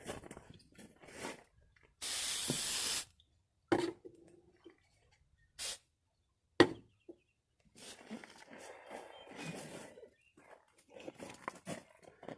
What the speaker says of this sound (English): So just spray that on there, let it sit for 30 seconds